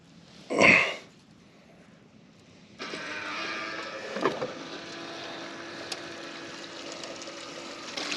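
Small motor for a geo sluice, used to run material, sputters to life after a sharp bang and settles into a steady, fairly loud running drone.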